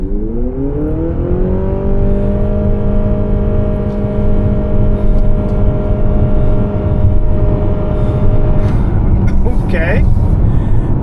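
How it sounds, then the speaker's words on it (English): A 2026 Honda CR-V TrailSport Hybrid launching from brake torque, its engine note rising in steady harmonic tones that hold level for several seconds, then a louder burst of rushing noise near the end. "Brake torque and go."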